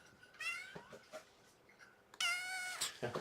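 Kittens meow in high, drawn-out cries, two clear calls with softer mews between them, close but fairly quiet in a calm indoor room.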